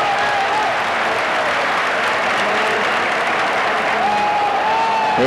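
A stadium crowd at a La Liga match between Real Madrid and Osasuna applauds loudly and continuously, a dense wash of clapping and cheering with faint whistles rising toward the end.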